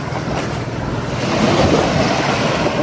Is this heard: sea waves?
yes